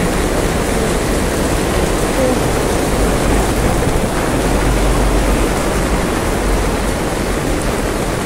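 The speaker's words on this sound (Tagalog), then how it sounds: "So, ganito yung ulan." Heavy rain pours steadily with a dense, unbroken hiss, no pauses or changes throughout.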